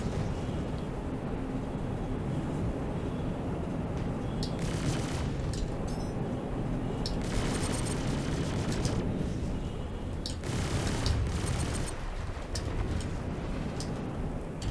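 Spaceship weapons fire in a space-combat game between an Anvil F7C MKII and an Aegis Sabre: bursts of sharp blasts over a constant engine rumble, clustered in several volleys.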